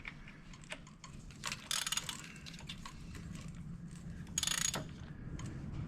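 A socket ratchet turns a bolt on a 2006 Toyota Solara during timing belt and water pump work, giving quiet, rapid clicking in short bursts with louder grinding spurts, close up and without talk.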